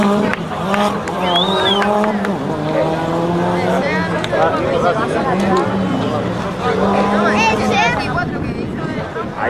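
Renault 5 Turbo rally car in a classic regularity rally on Gran Canaria, skidding through a half-spin. Its engine revs and changes pitch amid tire scrubbing for several seconds, with voices in the background.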